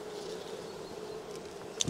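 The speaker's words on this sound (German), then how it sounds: "Die Bienen verkitten ja ihren Bienenstock" Honeybees drone steadily around a Miniplus hive in September, a continuous close hum with no breaks, and a faint brief click near the end.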